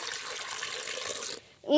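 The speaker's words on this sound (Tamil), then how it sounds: "இதுக்கு தேவையான அளவு வந்து கொஞ்சமாக தண்ணி ஊற்றிக்கலாம்" Water trickles and splashes steadily into tamarind for a village-style tomato rasam for just over a second, then stops abruptly, followed by a brief clink.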